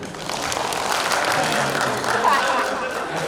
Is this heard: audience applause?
yes